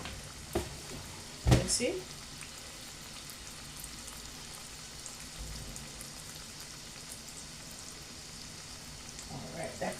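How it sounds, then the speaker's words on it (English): Cassava fry dumplings sizzle steadily in a hot pan of oil for Jamaican-style cooking, a constant crackling hiss with a few louder clatters and stirring sounds near the start, while someone briefly speaks over it. "So my cassava dumpling is there cooking."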